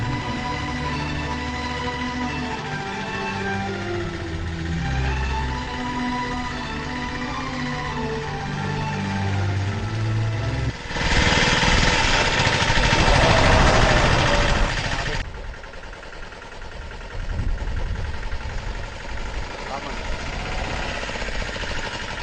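A motorbike engine runs nearby with a low, throbbing idle. Midway it swells into a louder, rushing burst for a few seconds, then settles back to a quieter running hum.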